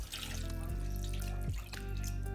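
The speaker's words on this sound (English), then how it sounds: "Take your soup can and fill it up about halfway" Water running from a tap into an emptied soup can, filled about halfway for a slow cooker dish, a steady close pour whose pitch shifts as the can fills, with no talking.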